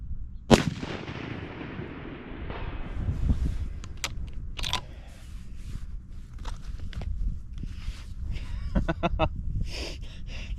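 A 7mm PRC rifle fitted with a Nightforce scope fires one loud, sharp shot early on at a long-range target. Faint footsteps and outdoor rustling follow.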